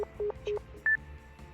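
Dialing tones from a phone in the Nekopara visual novel game: three short keypad beeps followed by a higher, brighter tone, with no talk.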